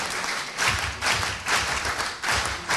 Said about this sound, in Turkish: Kendilerine kuvvetli bir okul alkışı verelim şimdi